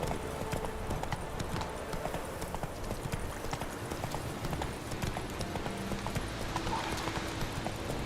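Roach, a horse in The Witcher 3 video game, clip-clops along in a steady, quick rhythm of hoofbeats at moderate volume, with occasional faint speech from a player in the background.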